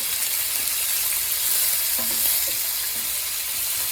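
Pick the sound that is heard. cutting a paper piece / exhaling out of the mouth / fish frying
fish frying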